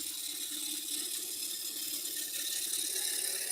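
Wood lathe spinning at about 1500 RPM as a roughing gouge cuts a wooden rolling pin, giving a continuous loud hiss-like shearing with a steady rattling, chattering texture underneath.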